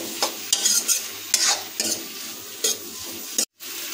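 Mixed vegetables with ground black pepper are stirred in a pan, giving a close, repeated series of scraping strokes over a light sizzle, then a brief cutout near the end.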